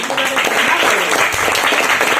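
An audience at a motivational speech claps in a dense, continuous burst of applause, close and loud, with a voice talking over it.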